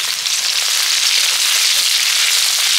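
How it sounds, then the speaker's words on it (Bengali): Chopped onion frying in hot oil in a kadai, an even continuous crackling sizzle held close and loud throughout, with no one speaking. "পেঁয়াজটাকে ভেজে নেব।"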